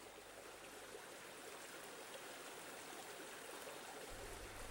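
The Annalong River stream flows steadily beside a camp in the Mourne Mountains, a continuous close rush of water with no break, plus a low rumble near the end.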